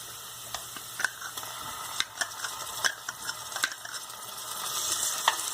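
Ginger garlic paste frying and being stirred in a pan for pav bhaji, with a steady sizzle under repeated sharp scraping knocks of a spatula against the pan, close and alone.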